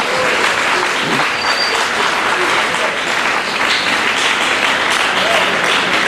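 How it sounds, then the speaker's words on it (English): An audience at a national music summit lecture clapping loudly, a dense, sustained burst of many hands filling the space at strong, steady volume for several seconds, with some crowd voices faintly underneath. "clap loud and appreciate God"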